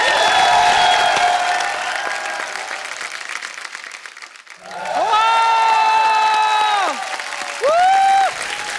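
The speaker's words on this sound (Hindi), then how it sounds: "जोरदार तालियां" Studio audience applause and cheering on a Hindi comedy talk show greeting a playback singer, a dense crowd roar that dips briefly midway before swelling again, with sustained musical tones layered over the clapping.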